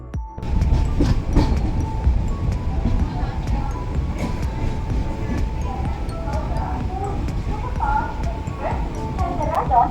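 A passenger train rolls into platform 6 at Kharagpur station, a low rumble and rattle of wagons under busy platform bustle, with people talking and a dog barking nearby.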